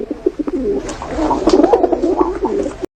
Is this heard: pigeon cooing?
yes